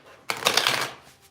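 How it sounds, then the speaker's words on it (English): A tarot card deck is riffled in one quick, close shuffle, a crisp fluttering burst of cards that rises sharply and trails off within a second, with no talking over it. "let me give this a good shuffle."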